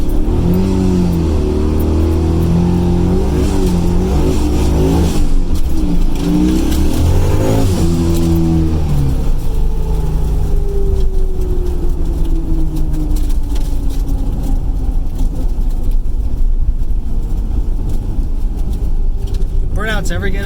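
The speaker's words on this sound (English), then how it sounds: "Some kids back there saying I should do a burnout" Car doing a burnout, engine revving hard and loud up close with rising and falling pitch and screeching tire noise, later settling into a steadier roar, with people talking over parts of it.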